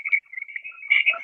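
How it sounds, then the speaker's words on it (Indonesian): A telephone rings with a steady, continuous electronic tone, fairly loud and alone, swelling slightly near the end. "sekarang masih berdering nggak?"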